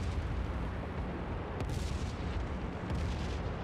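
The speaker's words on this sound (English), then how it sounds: "anti-aircraft fire" Anti-aircraft fire bursts around a CG-4A Waco glider during D-Day glider landings in IL-2 Great Battles, a continuous loud rumbling barrage with booming low thuds and a couple of sharper cracks.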